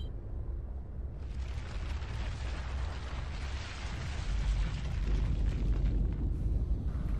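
A deep seismic rumble from an underground explosion in Gears of War 2 builds after a quiet start into a sustained, roaring wash of noise that grows heavier and louder toward the end.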